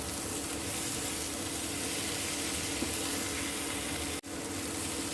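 Chopped tomato is stirred as it cooks in a pan for a Bengali dried fish curry, giving a steady broadband sizzle with faint scraping and one brief break near the end.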